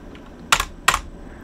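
Two quick bursts of computer keyboard keystrokes while a command is typed, close and crisp, each lasting about a tenth of a second with a short pause between them.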